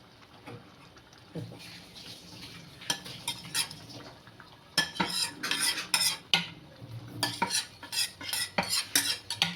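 Butter and chilli tadka poured into pav bhaji and stirred in a pan, with bursts of scraping and clinking from a metal spatula, quiet at first and then a rapid run of loud, close strokes.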